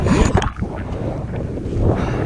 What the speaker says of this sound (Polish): Jest taki wiatr, tak ciężko się jedzie